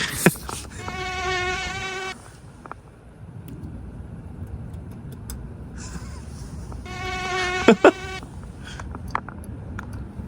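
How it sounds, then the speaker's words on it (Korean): Two sustained whining mosquito buzzes, close to the ear and fairly loud, separated by a quieter gap with faint background noise. "모기 알아? Mosquito."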